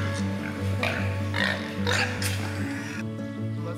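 Pigs grunt and oink repeatedly at close range on a pig farm, short nasal bursts over a steady low mechanical hum from the barn.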